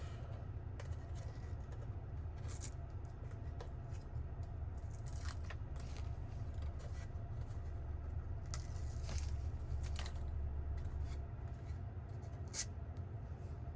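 Adhesive stickers with pull tabs, from a Spigen hidden storage box for a Tesla Model Y, peel off their backing in faint, scattered crackling rips and soft rustles against a quiet room hum.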